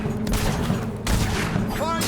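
Battle gunfire in the video game Fable 3, a dense continuous fusillade of rifle shots crackling under a shouted voice, with steady loud noise throughout and a brief whistling effect near the end.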